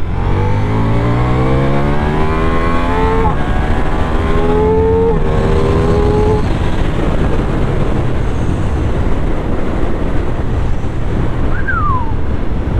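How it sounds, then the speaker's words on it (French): Ducati XDiavel V4 motorcycle engine accelerating hard through the gears, loud and close, the pitch rising and dropping at each shift from second to third under heavy wind rush. "il y a eu un bruit au premier passage de rapport de 2 en 3, là, un bruit que j'avais quasiment jamais entendu"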